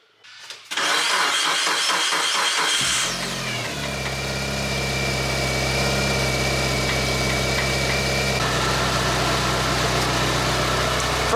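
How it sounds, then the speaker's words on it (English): A Mitsubishi Evo cranks briefly with a whirring starter, then catches and fires into a loud, steady idle that settles into an even, close-up hum. "let's pray that the Evo starts"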